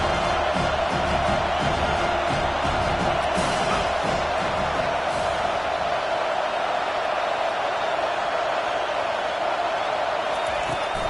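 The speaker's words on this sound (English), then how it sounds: "And this crowd coming to life here, trying to help the defense get a stop" Stadium crowd roaring and cheering in a Madden American football video game, a steady, dense wash of noise across the whole stretch with a brief swell near the start.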